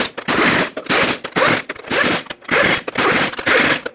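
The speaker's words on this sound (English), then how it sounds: "in a cross pattern we're going to torque these to 148 foot-pounds." Impact wrench or ratchet tightening lug nuts on a Ford E-350 front wheel, torqued in a cross pattern to 148 foot-pounds, giving six loud, close bursts of rapid mechanical clatter with short pauses between them and no talk.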